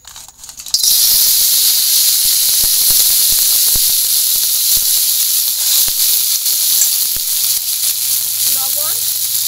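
Crabs fry in a hot pan, starting with a sudden loud hiss that settles into steady sizzling and spitting for several seconds, with faint sounds near the end.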